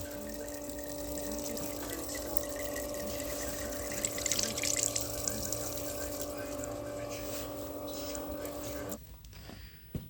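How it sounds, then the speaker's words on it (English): Flood coolant pours over a part on a JFMT lathe fitted with an Algra tool post, a steady rushing wash with a constant motor hum underneath, close by, cutting off near the end. "It's nice having a lot of flow through the flood coolant."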